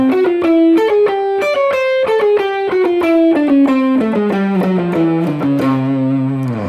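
Distorted electric guitar plays chromatic approach tones, a run of single notes stepping down by half steps in an even sixteenth-note rhythm, ending on a sustained note.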